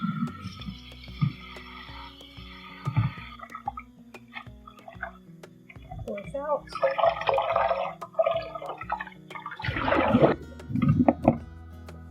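Water is poured out of a bowl and the bowl rinsed while preparing tabbouleh, with scattered splashes and drips that swell into louder pouring bursts near the end, under a few spoken words.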